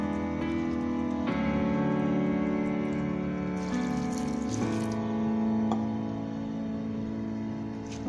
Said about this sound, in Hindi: देखिए पानी हमने इसके अंदर डाल दिया है